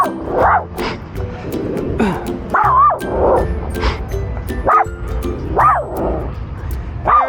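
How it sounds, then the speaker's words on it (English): A dog barks repeatedly in short, excited yips and woofs, close by, with uneven gaps between barks and some whimpering. "Very much just barking to bark, looking at everything."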